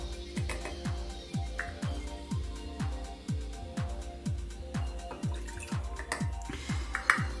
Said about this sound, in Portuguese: nós vamos colocar 2 medidas de água.